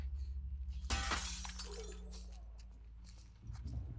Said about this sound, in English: I should throw this at like the glass.